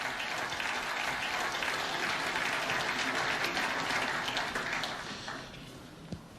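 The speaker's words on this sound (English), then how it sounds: "Two terrific shots, both applauded by the other player." Applause for a shot during a snooker World Championship semi-final deciding frame between Wilson and McGill, a dense, steady clapping from the arena crowd that fades out over the last second.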